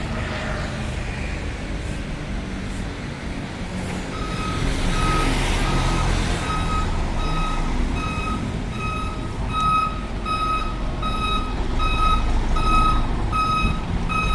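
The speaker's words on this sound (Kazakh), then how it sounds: "Туристический автобус келді гостиницаның алдына." A tourist bus reversing in front of a hotel, its reversing alarm beeping in a steady regular series over a loud idling diesel engine rumble.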